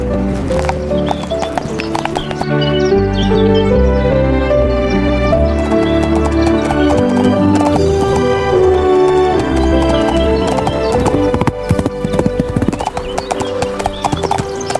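Steady clip-clop of horse hooves at a walking pace under a full musical backing, with a brief whinny-like sound.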